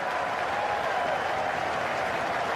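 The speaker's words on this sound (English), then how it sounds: "Crowd are loving it. That's the Australian fans." Australian fans in a cricket stadium crowd applaud a boundary, a dense, steady roar of clapping and cheering from a large crowd that holds at an even level throughout.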